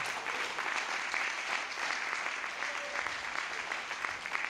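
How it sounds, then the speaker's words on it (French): An audience at a launch event applauds the president with sustained, even clapping that fills the room at a steady level and carries no distinct voices. "Acclamons pour la présidente. Acclamons pour le président."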